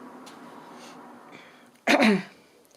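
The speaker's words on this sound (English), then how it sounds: "I'm just going to have to pause a moment and blow my nose" A single loud, blustery nose blow bursts out after a stretch of quiet room tone, close and brief.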